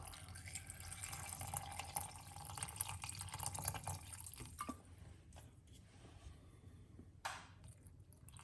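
Water pours and splashes steadily into a blender for several seconds, then thins out into a few scattered drips and clunks.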